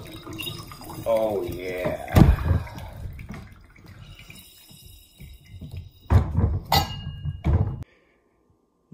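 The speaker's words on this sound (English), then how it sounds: "Juice the grapefruit. Get that grapefruit juice all out." A grapefruit is squeezed in a heavy hand juicer for a paloma, giving wet squelches, liquid drips and hard thunks of the press in two bursts, with a person briefly speaking.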